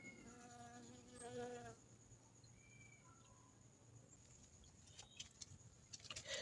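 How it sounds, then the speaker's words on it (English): A bee buzzes in a small, hot backyard garden near a mango tree, a faint, steady drone close by for about two seconds and then fading into quiet outdoor ambience with a few soft clicks. "Look at the busy bee"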